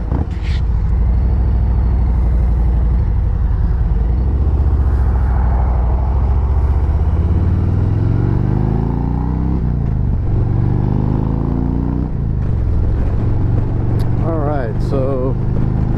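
Motorcycle fitted with a super low 6-inch Clockworks flare windshield rides along, engine droning loud and steady with rising and falling revs, wind rush throughout and brief talk near the end.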